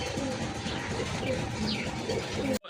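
Large Gopalganj pigeons coo in a steady, repeating rhythm, close and fairly soft, with a few brief higher calls from other birds in the background.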